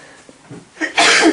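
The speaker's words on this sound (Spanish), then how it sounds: "Ya que me vino el estornudo." A single loud, explosive human sneeze, blamed on allergies, bursts out near the mic during a Spanish-language interview, preceded by a quick sharp inhale.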